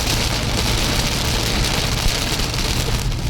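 Heavy rain pours steadily in Udon, Thailand, a loud, continuous dense hiss of drops striking surfaces with no pauses and no voices.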